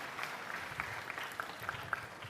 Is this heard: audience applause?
yes